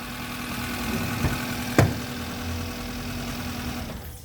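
A used car's engine idling close by, a steady mid-pitched hum with a couple of brief knocks before the sound drops away at the end as it is switched off.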